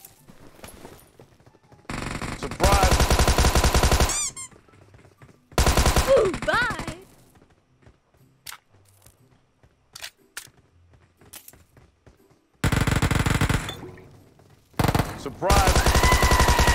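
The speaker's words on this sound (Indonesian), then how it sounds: "Kok ada tembak sih?" Bursts of automatic gunfire in the PUBG Mobile battle royale game come in several loud, dense volleys separated by quieter gaps, with a voice talking at points between them.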